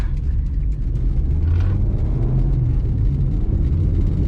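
Maruti Swift VXi 2020 petrol hatchback pulling away in first gear, a steady low engine rumble with a faint rising whine, heard continuously from inside the cabin without talk.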